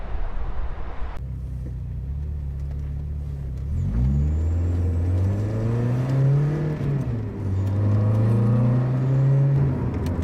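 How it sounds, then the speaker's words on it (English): A Renault Clio Williams engine revs and accelerates close by, its pitch rising and falling through gear changes, steady and fairly loud with no talking. "This Clio Williams has definitely got a great sound to it."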